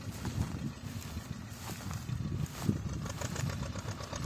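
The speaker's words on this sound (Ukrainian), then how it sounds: "Т-25 працює з таким плугом без проблем." A T-25 tractor engine runs steadily while ploughing sandy field soil with a Bellota plough, a continuous low, rough mid-pitched drone at moderate distance with no pauses.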